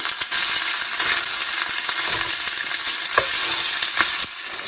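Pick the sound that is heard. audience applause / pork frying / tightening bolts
pork frying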